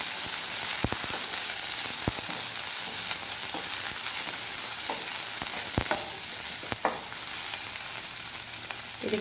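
A large onion fries in a pan for masala dosa filling, crackling in a continuous near sizzle broken by scattered sharp clicks of stirring, with no voices.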